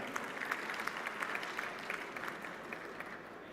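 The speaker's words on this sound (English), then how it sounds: "A huge round of applause to the MRI" Steady, fairly faint applause from a conference audience at the inauguration of an Asian recycling conference and exhibition, a dense even patter of clapping.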